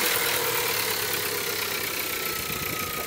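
A cold Honda Civic engine idles with a steady, rough mechanical rumble and low hum, close and continuous throughout with no voices.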